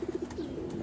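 A pigeon at a loft coos close by in a quick run of four soft, low pulses, followed by a longer murmuring coo.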